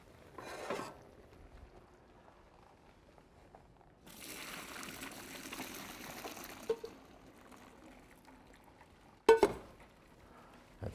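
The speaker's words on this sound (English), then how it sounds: "And my pasta is cooked, I can see that. Yep. So I'm going to drain it." Cooked pasta being tipped into a colander in a home kitchen, a steady wash of pouring water and splashing for several seconds, then a couple of sharp metallic knocks and clatters near the end, with no talking.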